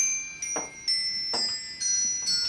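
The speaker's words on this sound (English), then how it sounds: "There's the bell still playing, as Mother showed." A Christmas decoration's bell chimes faintly in a home, several light rings spaced about half a second apart over a steady background hum.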